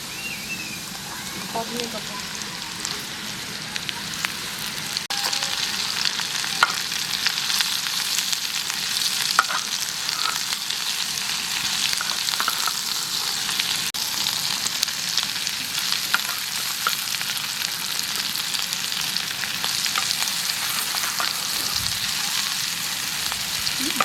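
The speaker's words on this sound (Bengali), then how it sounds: "ওর উপর আমি কাবলি ছোলাটা ভেজে নেবো" Chickpeas fry in a pan of oil left over from frying potatoes, giving a continuous close sizzle with crackling pops and occasional stirring scrapes; voices talk at times over the frying.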